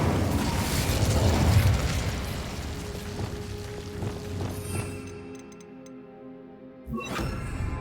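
A fire spell cast in a Hogwarts video game erupts in a loud whooshing burst with crackling, then fades to a low rumble before a brief sharp flare near the end.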